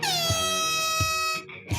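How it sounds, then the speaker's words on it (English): An air horn blasts loudly and steadily as a sustained harmonic tone for over a second, cutting off abruptly with a brief burst trailing after. "I like hitting the air horn, Bo."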